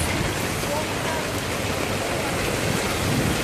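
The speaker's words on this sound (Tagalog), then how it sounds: "Lakas ng ulan" Heavy rain pours down continuously in a dense, roaring hiss while people cross a street, with faint voices somewhere beneath it.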